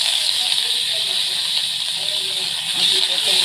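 Coriander dropped into hot oil with browned garlic gives a steady, loud hiss and sizzle that holds throughout, a faint voice underneath.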